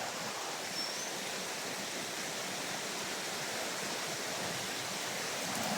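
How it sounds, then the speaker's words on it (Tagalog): A creek runs at low flow as a steady, even rush of water, close and uninterrupted, with no talk. "Medyo mahina na yung sapa guys."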